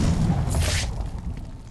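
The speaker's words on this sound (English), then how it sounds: "Spray, detonate." Explosive gel detonating in Batman: Arkham City, a single short boom with a bright burst of debris crackle, loud and close over a rumbling game backdrop.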